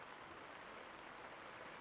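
Light drizzling rain at a campsite in Khao Yai National Park, heard as a steady, even hiss of fine drops that holds throughout, alone and with no voices.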